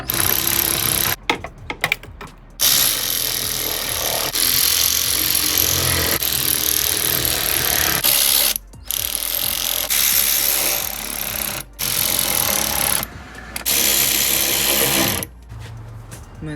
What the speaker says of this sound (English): now we can tighten the clamps, which is the annoying part